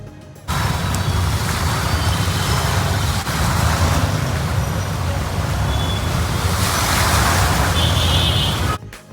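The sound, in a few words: auto rickshaw ride in road traffic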